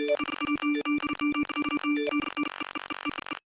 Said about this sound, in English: It's like this constant phone going off kind of notification noise.